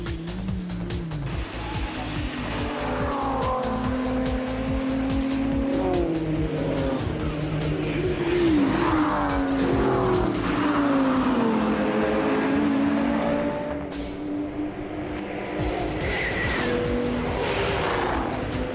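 Race cars lap in a Gran Turismo 5 endurance race, with loud engines rising and falling through gear changes, cars passing one after another and tires squealing through corners, continuous and close throughout.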